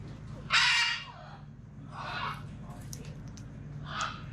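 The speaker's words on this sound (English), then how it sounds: "I got all the birds." Harsh, squawking calls from birds at a monkey and sloth hangout on French Cay, Roatán, Honduras: three separate bursts, the first loudest and the later two softer, over a steady low background hum.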